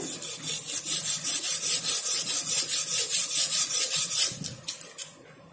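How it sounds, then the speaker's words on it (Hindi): Hair clipper blade being polished by pressing and rubbing it against a surface during repair, a close, steady rasping scrape in quick back-and-forth strokes that fades out near the end. "वो थोड़ी सी पॉलिश हो जाए तो इस तरह से दबा के पॉलिश करते हैं"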